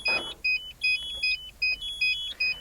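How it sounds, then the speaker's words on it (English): A Wheego LiFe electric car sounds its lights-left-on warning, a loud, repeating electronic chime of paired tones in a quick, steady rhythm, close by and with no talking. "making some sort of alarm sound to tell you you've left your lights on is a pretty normal car thing to do"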